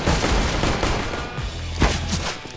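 Bursts of rapid gunfire from a shooter video game ring out over a few seconds, a loud fusillade of overlapping shots with a brief heavier blast near the middle.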